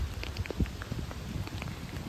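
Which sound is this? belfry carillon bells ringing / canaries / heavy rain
heavy rain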